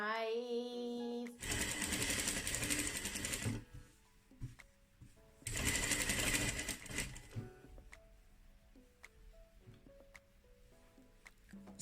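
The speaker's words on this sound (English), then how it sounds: "Then let's go to the machine to sew it" A sewing machine stitches a cowl neck top in two loud, steady runs of rapid mechanical whirring, each about two seconds long, with quieter clicks and handling noises between and after them.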